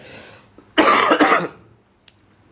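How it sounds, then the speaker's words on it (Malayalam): A person coughs in one harsh, close burst lasting under a second during a car trip to Ooty via Masinagudi, followed by a faint click in a quiet background. "ഞാൻ ഒന്നുകൂടെ ഒന്ന് ചുമയ്ക്കുന്നുണ്ടേ"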